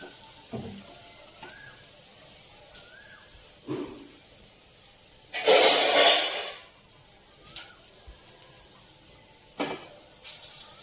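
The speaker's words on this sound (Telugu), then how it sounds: "ఇప్పుడు మనం వాటర్ పోసుకుందాం" Water poured into a hot pan of fried vegetables while making veg upma, a loud hissing sizzle of about a second in the middle, with softer clinks and sizzles before and after.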